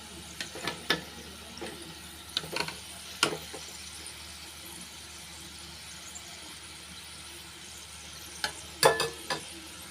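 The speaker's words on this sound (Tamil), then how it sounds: "இதே மாதிரி எல்லா கடலைப்பருப்பையும் எண்ணெயில் வந்து நல்லா பொரிச்சுக்கலாம்" Chana dal, split chickpeas, frying in oil: a low continuous sizzle with sharp scraping and squeaky stirring bursts in small clusters near the start, middle and end.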